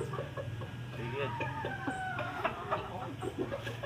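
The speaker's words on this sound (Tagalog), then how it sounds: "Dako kay manok guys, oh." Chicken clucking from a large hen or rooster, with repeated short calls in close, steady bursts over a low background hum and some faint outdoor noise.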